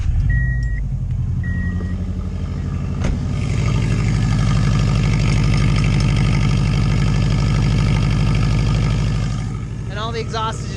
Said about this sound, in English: and we start the car.